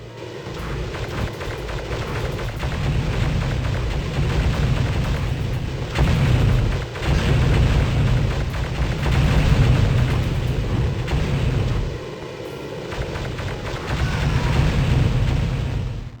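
A massive Dark Trooper gun fires in the Star Wars: Dark Forces game, loud booming blasts repeating in heavy bursts with short pauses between volleys, rumbling and explosive throughout.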